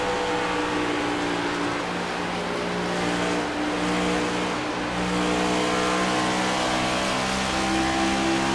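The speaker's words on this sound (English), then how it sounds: "You really hear Jose have to feather that throttle pedal. Now you just heard Jose's shift." Race car engine in iRacing at Homestead Miami Speedway, a steady loud droning whine held throughout with slight throttle modulation and a gear shift midway, no talking.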